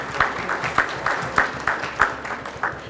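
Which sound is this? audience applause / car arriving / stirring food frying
audience applause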